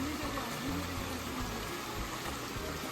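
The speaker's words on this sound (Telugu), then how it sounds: "ఇదే మన కొండపల్లి జలపాతాలు." Steady, dense rushing roar of the Kondapalli hidden waterfalls in the forest, constant and enveloping throughout, with no distinct breaks and no voices.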